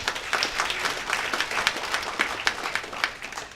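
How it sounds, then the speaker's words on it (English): An audience at a business community event applauds steadily, many hands clapping in a dense, moderately loud patter that lasts throughout with no speech. "Please give her a big round of applause."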